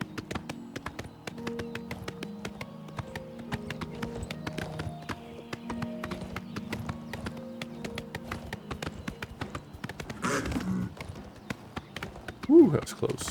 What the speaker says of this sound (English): My horse is amazing